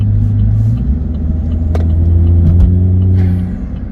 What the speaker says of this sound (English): this is what AME sounds like in the cabin